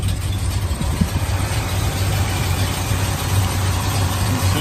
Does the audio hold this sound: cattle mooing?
no